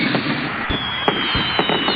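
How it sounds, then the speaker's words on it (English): A fireworks display going off at night, several sharp bangs and crackling bursts in quick irregular succession over a bright sparkling hiss, loud and close. "That night, all the engines were watching the firework display."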